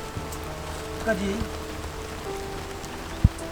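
Steady rain falls in the Philippine countryside, a constant hiss of drops on surfaces throughout, with a person speaking briefly and a single sharp knock near the end.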